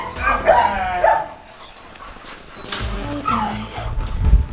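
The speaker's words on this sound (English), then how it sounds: "Oh my gosh, so many puppies for me to walk." Puppies at a dog rescue give several short yips and whimpers, close and fairly loud, separated by quieter gaps with faint background noise.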